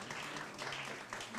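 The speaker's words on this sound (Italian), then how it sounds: "Facciamo un applauso ad Alexandru" A literary event audience applauds an author, a short, quiet patter of clapping heard from a distance.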